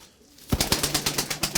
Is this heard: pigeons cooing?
yes